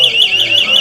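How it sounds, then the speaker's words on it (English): A fire alarm sounds loud and close, its shrill electronic tone pulsing in a regular warble, set off during a celebration at the grand final of a sporting event. "Dino set off the fire alarm in celebration"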